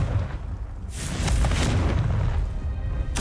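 A Confringo spell blast goes off in Hogwarts Legacy, a deep booming explosion that swells and rumbles for about two seconds before a sharp crack at the end.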